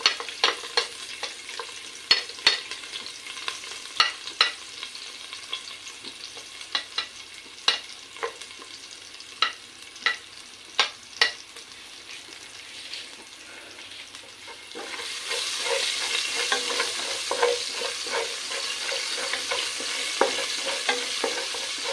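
Garlic and fenugreek seeds frying in hot oil in a pan, a continuous sizzle punctuated by regular sharp scraping clicks of stirring, the frying growing denser and louder in the last third.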